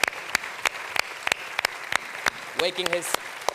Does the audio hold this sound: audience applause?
yes